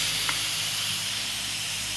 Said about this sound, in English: So I'm going to let the steam release by pushing this forward.